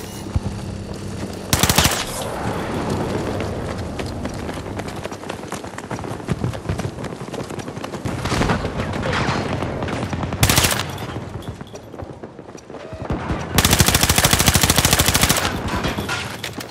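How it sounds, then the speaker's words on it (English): Gunfire in the video game Battlefield 2042 during Conquest mode: loud bursts of automatic fire cut through dense, continuous battle noise, with several sharp volleys and a long sustained burst near the end. "They're shooting!"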